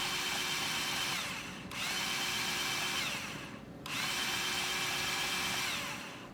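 A Ryobi 18V cordless band saw runs with a steady, even whir, cutting out briefly twice as the trigger is released and squeezed again, heard close and alone.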